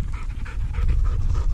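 Hunting dog panting hard and rhythmically up close during a late-season bobwhite quail hunt in Nebraska, quick breaths repeating steadily.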